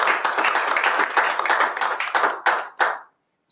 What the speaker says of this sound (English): I think we need to give Brenton a round of applause